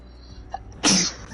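A single loud, close sneeze with a brief intake of breath and a sharp burst, heard during gaming chatter.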